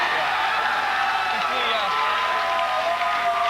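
A TV studio audience on The New Tom Green Show applauds and cheers, a steady, dense roar of clapping and shouting that holds at even loudness throughout.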